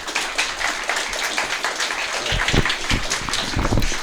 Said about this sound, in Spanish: Les pido por favor que recibamos con un caluroso aplauso a nuestro ponente.